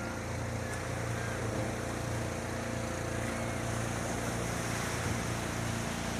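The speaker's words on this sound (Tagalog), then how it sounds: "May bangka o." Steady low engine drone of a boat on the water, continuous and fairly even, with a broad wash of wind and water noise around it.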